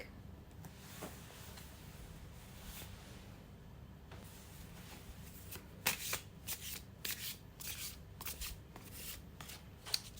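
A deck of cards is riffle-shuffled nearby, a quiet stretch giving way to a quick flurry of crisp flutters and snaps, with a final riffle at the end.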